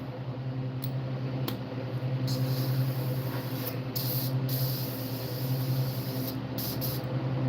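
An airbrush sprays paint onto a fishing bait being patterned like a koi fish, a steady close hiss over a constant compressor hum, with short bursts of brighter spray starting and stopping.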